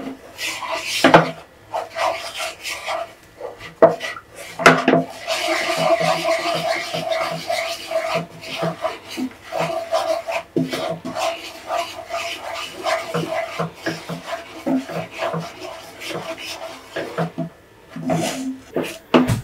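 Lotus seed caramel being stirred in a pan, scraping and rubbing steadily at close range with intermittent sharp knocks of the utensil against the pan, continuing for the whole stretch with no talk.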